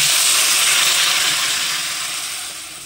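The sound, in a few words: hot water poured into pot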